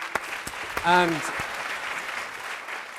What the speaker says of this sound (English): a round of applause for all of the other speakers